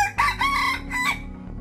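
An ornamental rooster crows once, loud and close, a full cock-a-doodle-doo with rising and falling harmonic notes over a low steady background hum.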